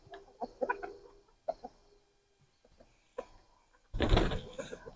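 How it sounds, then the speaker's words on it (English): Chickens clucking softly as they come out into a new winter area, scattered short calls under a person's quiet voice, followed by a loud bang like a door or gate. "Come on out, chickies."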